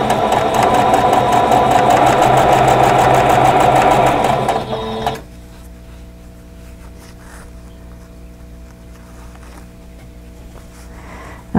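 A sewing machine chain-pieces a quilt block, stitching in a loud, fast, steady whir that stops abruptly partway through, leaving a quiet room hum.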